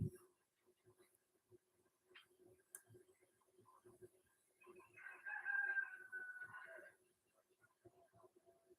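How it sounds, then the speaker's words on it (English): A rooster crows clearly in the background for a couple of seconds amid faint clucking and scattered low noises. "Sorry about the roosters in the background"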